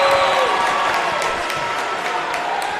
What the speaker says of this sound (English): It's the Bronx cheer from the crowd below us